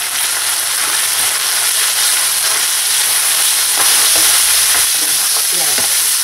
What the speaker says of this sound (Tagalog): Ayan, haluin lang natin to.